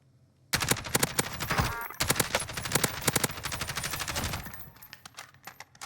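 Rapid automatic gunfire in Warzone, a Mini Royale solo match, crackling in dense loud bursts of shots with brief pauses between volleys, then thinning out toward the end.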